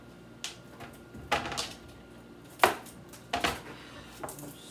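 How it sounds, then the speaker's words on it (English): A knife chops vegetables in a home kitchen as a handful of sharp, irregular thuds on a board, loud and close, with quiet room tone between strikes. "I'm going to start chopping up some of my veggies now"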